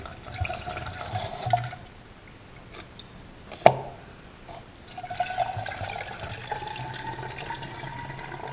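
A 50-50 coolant mix pours from a jug into the cooling system of a BMW E36 M3, trickling and gurgling softly with a brief clunk midway before the flow resumes.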